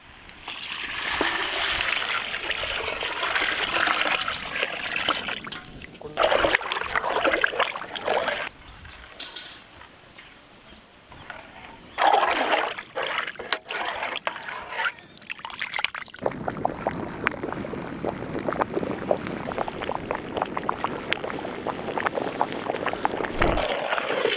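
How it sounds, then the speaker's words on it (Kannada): Water splashes and sloshes heavily from buckets into a large pot of rice in several bursts, with a quieter pause in the middle before the pouring resumes. "ಅದಕ್ಕೆ 2 ಬಕೆಟ್ ನೀರು ಹಾಕೋತಾ ಇದ್ದೀವಿ ಅಳತೆ ಪ್ರಮಾಣವಾಗಿ"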